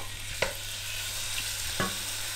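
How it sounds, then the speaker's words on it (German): Young bull goulash meat sears in oil in a pot, a quiet steady sizzle with two soft utensil clicks, one early and one late, and no voices. "Also Jacob hat jetzt gerade ein bisschen Öl in den Topf getan und tut jetzt gleich das Jungbullengulasch hinein, um es halt mal ein bisschen anzubraten."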